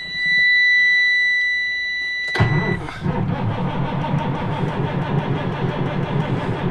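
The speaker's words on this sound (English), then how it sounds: "Still can't get the black truck to start." A black truck's engine cranks hard and refuses to catch, a loud steady churning grind that follows a brief high-pitched tone and a sharp click, with no voices.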